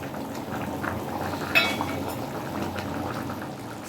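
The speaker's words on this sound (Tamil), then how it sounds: "பாருங்கள், நல்லா வந்து கொதிச்சிருச்சு" Corn soup bubbling in a pot on the stove gives a steady, close simmering hiss with soft popping bubbles and one brief clink, with no talking.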